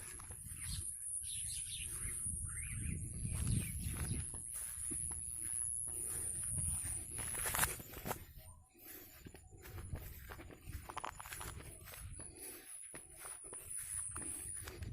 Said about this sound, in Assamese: সেয়া শুনিছে আপোনালোকে, চৰাই কিৰিলি